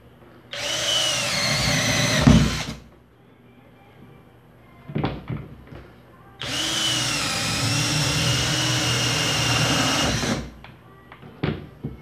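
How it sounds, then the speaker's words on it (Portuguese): A cordless drill-driver on speed 2 whirs into wood in two long bursts, each running steadily for a few seconds, separated by quieter handling clatter and knocks of wood being moved. "Vou pegar uma madeirinha aqui"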